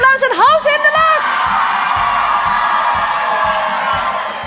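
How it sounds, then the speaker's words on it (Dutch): Crowd at a children's carnival song festival whoops and cheers loudly after a performance, with a voice rising over the crowd at first and rhythmic clapping or stomping pulses continuing underneath the sustained roar. "Geef ze een groot applaus en hou ze in de lucht."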